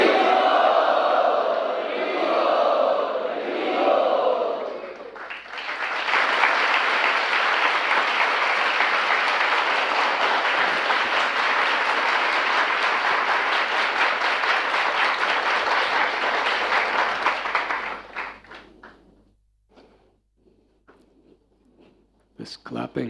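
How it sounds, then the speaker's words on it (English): Applause from an audience at a Srimad Bhagavatam class in a temple, loud and sustained for over ten seconds after a spoken introduction, then fading to scattered claps and quiet. "This clapping is something that began after I left 2 years ago"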